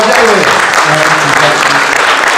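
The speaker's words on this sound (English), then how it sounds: "Ladies and gentlemen, can we have a big round of applause for George" An audience at a Play Expo Blackpool talk applauds George David, steady, loud clapping filling the whole moment, with a few voices mixed in.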